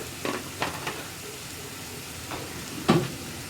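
Kashmiri chili powder frying in a curry pan on low flame with turmeric, a faint steady sizzle broken by a few sharp stirring scrapes and one louder clack of a spoon against the pan.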